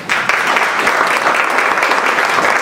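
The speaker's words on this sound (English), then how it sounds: "please welcome, in your applause" Steady, dense applause from a forum audience welcoming a guest speaker to the stage, loud and continuous throughout with no pauses.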